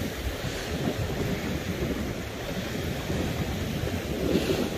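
Sea waves wash onto the shore in a steady, loud rush, mixed with wind buffeting the microphone, with no voices.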